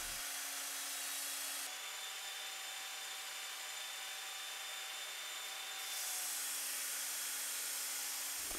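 A Ken Onion Mk2 belt sharpener with a P120 coarse grit belt runs continuously at speed 6 while a lawnmower blade is ground against it, giving a steady motor hum and a faint abrasive rasp, with no talking.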